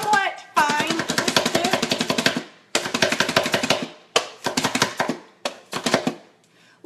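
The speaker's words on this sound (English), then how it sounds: "show you how quick and easy I can chop all this onion. And it'll be a little bit loud" Onion is chopped finely and fast on a cutting board, loud rapid knife strikes in dense bursts separated by short pauses, close and clear with no talking over them.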